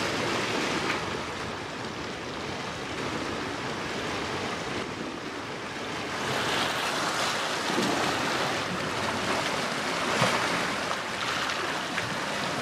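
Sea waves wash onto the beach at San Benedetto del Tronto, a constant broad surf hiss with gentle swells and some wind buffeting the microphone, moderately loud with no talk.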